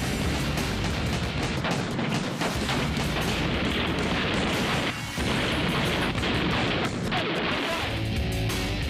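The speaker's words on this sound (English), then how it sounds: "Suddenly, the air is filled with the sound of gunshots." A police shootout with SWAT officers and a suspect fires a rapid, dense barrage of loud gunshots and crashing impacts, nearly continuous for several seconds with a brief pause.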